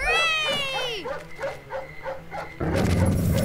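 Dogs bark in a cartoon adventure game, a few yappy barks at the start followed by quieter scuffling, then a loud burst of noisy game action near the end.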